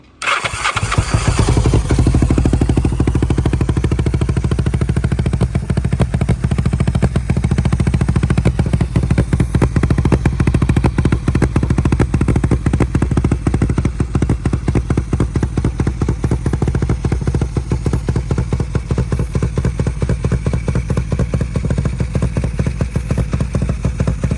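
Homemade Kraken-build motorbike engine fires up with a brief start burst, then settles into a loud, steady close-up running rumble with rapid rhythmic firing pulses that continue throughout, no talking.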